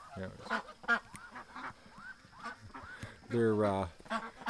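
Ducks being fed give a run of close quacks and honks, mixed with a person's voice speaking over them.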